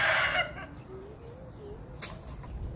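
A chicken clucks among the birds around a house surrounded by tall trees, a short series of soft clucks after a brief louder burst, heard from a moderate distance over a low outdoor background.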